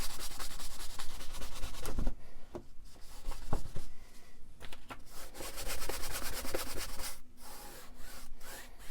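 A paintbrush scrubs oil paint onto canvas for a landscape painting, a rough rhythmic rubbing and scratching in quick strokes with short pauses, close and fairly loud, no voice.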